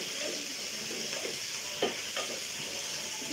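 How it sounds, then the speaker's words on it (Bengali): Shrimp frying in a pan, a steady hissing sizzle with a couple of brief spatula scrapes, close and fairly quiet, without speech. "যেহেতু চিংড়ি মাছটা মিক্স করে ফেলেছি তাই এই পাশে একটু ভেজে নেব"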